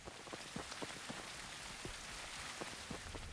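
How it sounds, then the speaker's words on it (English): Rain falls steadily in the Mars exploration video game Blind Descent, a dense close patter of drops on a surface with scattered sharper splashes, heard alone. "You can see it's raining in here, which, how's that happening?"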